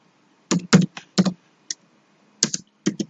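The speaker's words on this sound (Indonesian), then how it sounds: "Kita ketikkan lagi sebuah perintah." A computer keyboard clacks as a command is typed, with close, crisp keystrokes in short clusters separated by brief pauses.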